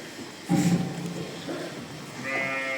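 A hand-raised lamb among sacrificial livestock gives a bleat, close and fairly loud, over steady outdoor background noise with faint rustling.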